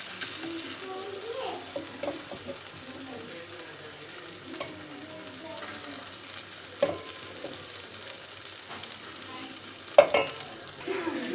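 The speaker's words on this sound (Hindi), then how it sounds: "बॉयल किया हुआ बीफ मैंने ऐड कर दिया है। इसको 2 मिनट भूनेंगे अच्छी तरह से।" Boiled beef frying in a spiced masala with chilies for beef achar gosht, giving a soft, steady sizzle broken by occasional clinks of stirring.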